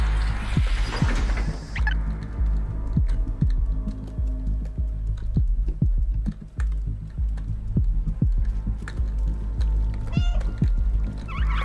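A cat meowing in the game Stray, short meows over a steady low hum with repeated soft tapping clicks, no voices.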